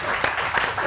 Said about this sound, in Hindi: ladies and gentleman, please put your hands together